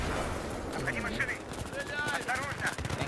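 Rapid gunfire bursts in Battlefield 3 crackle through a noisy firefight, with shots from a shotgun and other weapons mixed among dense battle noise and excited talk over it.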